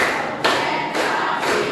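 A classroom group clapping together in a counted rhythm, loud, closely spaced bursts of hand claps separated by short pauses.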